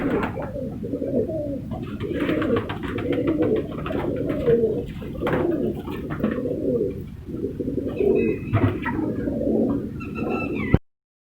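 A breeding pair of Shirazi Guldar pigeons coos steadily at close range, with repeated throaty low rolls running continuously through the whole stretch and no talking.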